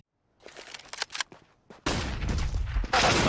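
SMG gunfire in Counter-Strike on Dust 2 during a pro match: rapid bursts of shots and footsteps at first, then a sustained loud, dense spray of automatic fire that swells even louder near the end.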